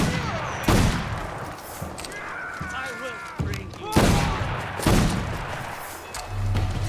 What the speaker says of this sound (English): I am just shooting this man to death